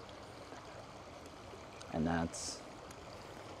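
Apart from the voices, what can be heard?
small brook stream flowing in a park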